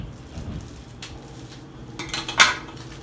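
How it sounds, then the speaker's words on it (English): Metal teaspoons from a matching set clink together close by, with a couple of quick, bright metallic taps near the end over a quiet background. "I do have this spoon set, teaspoons, all the same."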